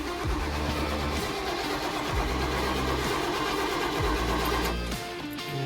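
A 1983 Chevy Holiday with a V8 that has sat for ten years, with a damaged exhaust, cranks and chugs loudly, the engine catching in rough, uneven bursts that rise and fall, close by, with no talking.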